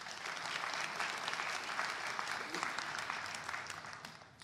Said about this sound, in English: Let's just give another round of applause to all the spotlight speakers